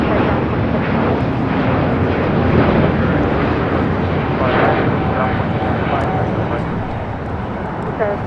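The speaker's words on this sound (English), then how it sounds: "621 taking off to Rome, Italy on the A350 900" An Airbus A350-900 jet takes off from Los Angeles International Airport, its engines producing a loud, sustained roar that holds steady throughout and eases slightly near the end.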